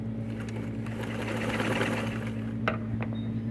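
A dressmaker sewing machine stitches a loose zigzag in one steady, continuous mechanical whir, driven by a foot pedal and heard up close with no talking.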